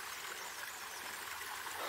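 Mountain spring water near a village outside Murree, where people fill containers, pours in a steady, close, continuous rushing hiss with no break.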